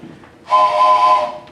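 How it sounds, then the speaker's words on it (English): A single sustained train whistle blows loud and steady for about a second, a bright chord-like tone that fades out at the end. "I'm going to blow this train whistle"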